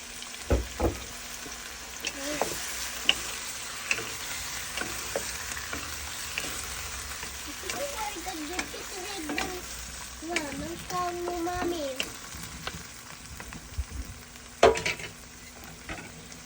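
Squid being fried in a pan for adobong pusit, a steady sizzle and crackle with occasional stirring clatter and utensil taps, close and continuous, with brief faint talk in between.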